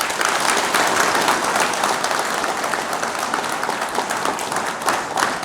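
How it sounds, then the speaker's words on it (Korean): An audience at a political lecture applauds. Dense, sustained clapping from many people fills the room at a steady loud level from start to finish. "장동혁 대표를 위해서 박수 한번 쳐주십시다"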